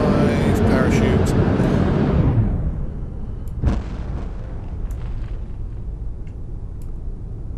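A rocket roars and fades as it comes down in Kerbal Space Program, ending with a single soft thump of landing, then low background hum.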